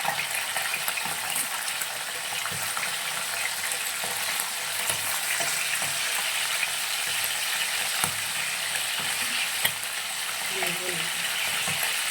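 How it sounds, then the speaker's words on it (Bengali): Chicken pieces fry in hot white vegetable oil, giving a dense, continuous, close hiss and sizzle with faint bubbling throughout. "এবার মাংসগুলোকে আমি একে একে গরম তেলের মধ্যে ছেড়ে দেব।"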